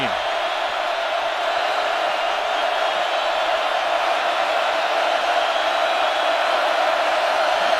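Loud football stadium crowd at a Virginia Tech versus Miami college game, a steady dense roar that holds at constant volume for the whole stretch with no break.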